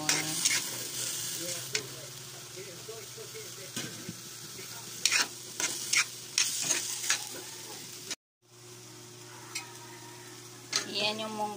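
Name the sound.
sautéing ingredients in a pan for mung bean dish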